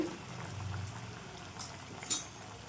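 Wheat flour and jaggery sweets sizzle steadily in hot oil, a soft continuous bubbling hiss with faint clinks from a ladle or pan.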